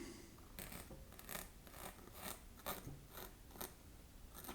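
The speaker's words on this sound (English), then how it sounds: "this is how you cut fur" Scissors work through fake fur for a sock puppet, giving a steady run of close, rhythmic snipping and rasping cuts, about a dozen in a row, quiet and with no voices.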